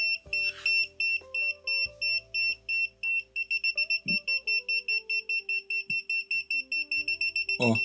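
A Minipa SM-3305 clamp meter beeps in rapid repeated pulses, first slower and then faster, steady high-pitched tones close by with faint handling noises and no speech.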